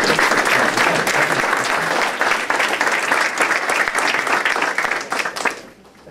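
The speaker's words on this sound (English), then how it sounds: "let's give a round of applause to" Audience at a sports complex unveiling breaks into a dense, steady round of applause, loud and sustained for several seconds before tapering off at the end.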